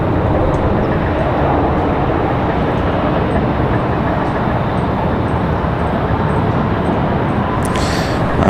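Jet airliner engines run after starting up at RDU airport, a loud, steady broadband roar close by, holding constant the whole time, with a brief higher hiss near the end.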